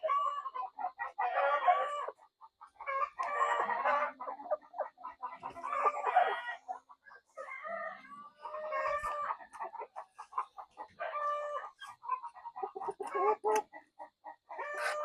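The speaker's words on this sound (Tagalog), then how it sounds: "Napakagandang lahi ng manok. Lavender Orpington." Lavender Orpington chickens on a backyard farm cluck in repeated short bursts with brief pauses, close and fairly clear, mixed with some crowing-like calls from other fowl nearby.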